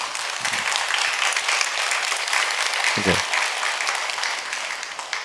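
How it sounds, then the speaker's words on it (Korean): A church congregation at a dawn worship service claps for their new senior pastor, producing a steady wash of many hands that lasts throughout, with a brief spoken word near the end. "아니 박수를 치다가 만 것 같아요."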